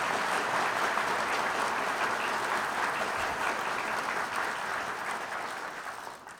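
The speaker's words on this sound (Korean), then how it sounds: "제가 부탁드렸는데 박수 안 치십니까?" Sustained applause from a crowd at a ceremony for the swearing-in of a justice minister: dense, steady clapping throughout, gradually thinning toward the end.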